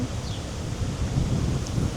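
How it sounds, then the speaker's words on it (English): Steady wind rushing and buffeting across the whole stretch, broad and continuous, with no voices. "it's incredibly windy today"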